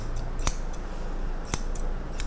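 Grooming scissors trim a dog's head, giving two crisp, close snips about a second apart along with a few fainter cuts, with no talking.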